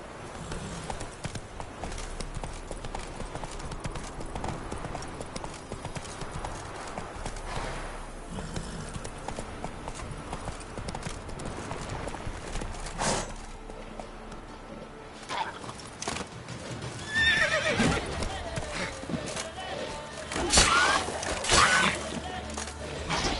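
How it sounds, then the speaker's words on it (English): Geralt's horse Roach from The Witcher hoofs across open countryside in steady clip-clop, mid-distance and moderately loud, with ambient game sounds layered around it and a brief neigh-like flourish near the end. "Not so fast, Roach."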